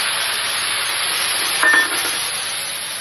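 Onion, garlic and ginger paste fries with eggs in a pan, giving a loud, dense, continuous sizzle with one brief clink partway through and no talking.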